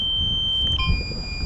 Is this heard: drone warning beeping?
yes